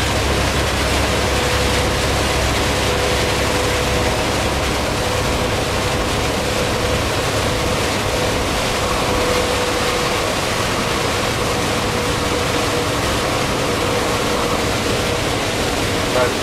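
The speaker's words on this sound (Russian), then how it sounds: "О, какой сильный пошел у нас дождик здесь, а?" Heavy rain drums steadily and loudly on a moving truck driving through Effingham, Illinois, a dense continuous roar with road noise underneath and no breaks.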